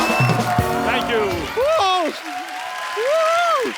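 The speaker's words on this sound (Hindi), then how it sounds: "जोरदार तालियां एक बार ऋतिक रोशन, आशुतोष गोवारिकर एंड पूजा के लिए जोरदार तालियां।" A studio audience on a TV comedy show applauds for Hrithik Roshan, Ashutosh Gowariker and Pooja Hegde, a steady clapping wash mixed with music and a host's voice talking over it.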